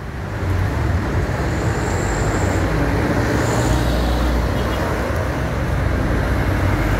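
Congested road traffic at Ajibarang during the holiday return flow on a Saturday night, a steady dense rumble of engines and tyres with no break, heard close and continuous.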